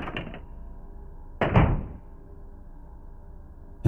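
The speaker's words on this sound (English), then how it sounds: "and heard the exit door opening and closing." An exit door being opened and then shut, giving two solid thuds about a second apart, close and fairly loud against a quiet room, with a faint further knock at the very end.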